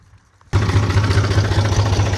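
Tractor with a PTO-driven sprayer running at slow speed in a garlic field, a loud steady engine rumble with a low throbbing pulse that kicks in abruptly after a brief quiet moment.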